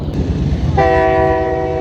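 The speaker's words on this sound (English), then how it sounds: "I apologize for the train in the background." A train rumbles past an Ontario wetland at night, then a loud sustained multi-tone horn blares and holds steadily to the end.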